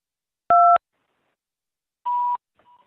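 Telephone keypad DTMF tones sound alone in near silence: one clear dual-tone beep, then a second beep after a pause, followed by a faint short tone.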